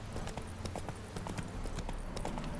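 Hooves of Roach, the horse in The Witcher 3, clopping in a steady trotting rhythm, faint and even against soft in-game background noise.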